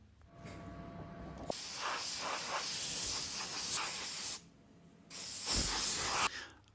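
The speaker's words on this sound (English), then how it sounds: "It takes me just 1 minute to polish this egg and then I blow air on it." Air blown in steady bursts onto a freshly polished chocolate egg, a broad close hiss lasting a few seconds, cutting out briefly, then returning for a second shorter blast.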